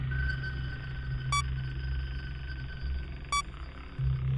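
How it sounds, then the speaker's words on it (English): Springtrap warning sound from the video game Five Nights at Freddy's 3, two short sharp electronic pings a couple of seconds apart over a steady low mechanical hum. "When Springtrap is in cams 5, 4, and 3, this sound will start playing."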